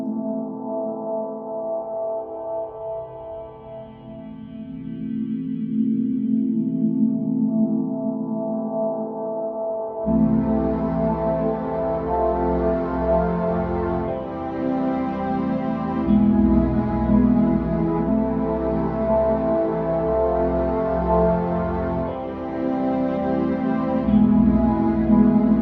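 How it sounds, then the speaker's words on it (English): Sustained synth or instrument tones pass through a reverb effect from the Sculptor app, swelling into a lush, washed-out tail; a fuller, brighter chordal texture takes over midway and keeps ringing, with no talk. "now this reverb is something else entirely different"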